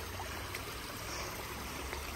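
Oregon creek water flowing in a steady, close babble and trickle that continues unbroken at an even level, with no voices.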